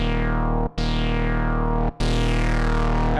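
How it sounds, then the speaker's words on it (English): A Novation Bass Station synthesizer plays a sustained, buzzy bass tone through its distortion effect, rich in harmonics, with two brief gaps where the note retriggers and the sound turns brighter and harsher afterward; no talking. "We've got an effects section over here, which has distortion."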